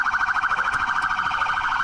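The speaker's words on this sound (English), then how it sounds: "Turn the siren off!" A police car siren wails steadily nearby, a loud, fast-pulsing electronic tone repeating continuously with no voices over it.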